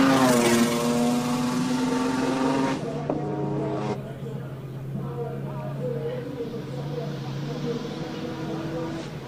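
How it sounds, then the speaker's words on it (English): A Port Elizabeth-built Noble M400 sports car with a Ford six-cylinder engine climbs a hillclimb course, its engine drone holding steady and loud throughout while a commentator talks over it. "Here is the Port Elizabeth made Noble M400. It's got a Ford 6-cylinder."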